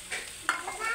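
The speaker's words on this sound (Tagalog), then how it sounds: "lagay natin ang bawang para crispy ang ating sisig. Tustahin lang natin." Garlic frying in oil for pork sisig, a short, soft sizzle with a light stirring scrape in the middle.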